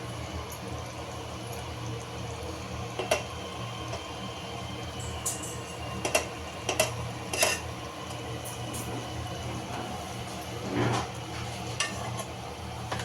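Butter heats on sliced pav bread in a pan with a steady low sizzle, broken by several sharp scraping and tapping sounds of a utensil.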